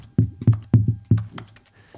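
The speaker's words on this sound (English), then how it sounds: "Still sounds like I'm typing." A handful of distinct clicky key taps in the video game The Stanley Parable Ultra Deluxe, five or six strikes at an uneven pace, fairly close and clear, with no talking.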